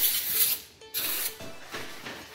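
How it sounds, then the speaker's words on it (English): Brake cleaner sprayed onto a Jeep Grand Cherokee SRT brake rotor gives a steady close hiss in several bursts with short breaks between them, loud and alone with no talking. "we'll give the rotor, front and rear, a good clean with brake cleaner"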